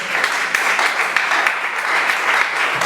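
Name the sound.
congregation applauding to acclaim the Lord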